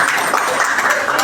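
Audience applause at a felicitation ceremony where a bouquet is presented and photos are taken, a brief steady wash of clapping mixed with faint background voices.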